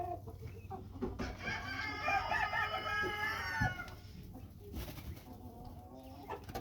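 A pet chicken clucks and murmurs in a run of close, bright calls at mid-clip, with a few softer clucks before and after against quiet background noise.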